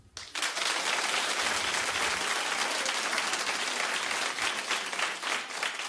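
A television talk-show studio audience breaks into applause, a sudden start of many hands that swells into a full, steady roar of clapping and holds for several seconds, with no voices over it.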